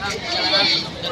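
Goats bleat at an evening livestock market in Padre Garcia, Batangas, a brief loud wavering cry close by amid crowd noise and talking.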